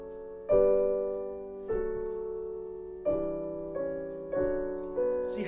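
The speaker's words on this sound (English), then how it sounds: "But if I change the pedal abruptly, or you know, like simple change of pedal, it will sound like this." Rich piano chords ring out one after another, about five of them, each struck firmly and sustained, with sharp breaks between them as the pedal is changed abruptly, cutting off the previous resonance.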